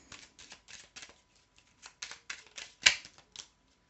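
A tarot card is drawn from the deck and laid down, with a quick run of soft, close papery flicks and taps ending in one sharper snap.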